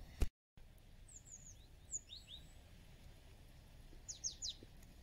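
Small birds sing beside the Lielupe river on an overcast, quiet morning, with a few short chirping phrases near the start and a brighter cluster of quick tweets near the end over faint background hiss.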